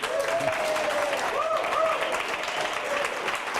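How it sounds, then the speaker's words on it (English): A live audience applauds on a comedic home cooking show, steady clapping throughout with voices and a few whoops rising over the crowd noise. "All right, that's a clap."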